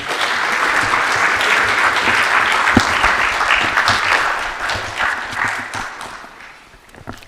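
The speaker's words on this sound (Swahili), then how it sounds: "na tumpongeze kwa makofi." A large audience at a formal presidential address claps in a dense, loud burst of applause that holds steady and then gradually thins and fades toward the end.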